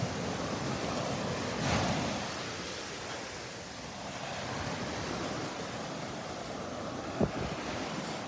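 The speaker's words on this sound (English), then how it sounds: "right here at this little stretch of beach, the waves are bigger than anywhere else" Ocean waves breaking on the beach at Delnor-Wiggins, a continuous broad wash of surf with gusty wind noise across the microphone and a small thump near the end.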